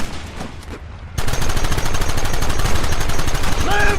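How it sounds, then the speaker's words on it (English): Rapid gunfire bursts erupt in a Red Dead Redemption battle scene, dense crackling shots layered over ambient noise with shouted voices. "Open fire!"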